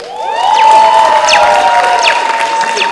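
A Kenyan crowd at a gala dinner applauds and cheers, with loud sustained clapping and rising whoops and ululating cries over the top, close and full throughout.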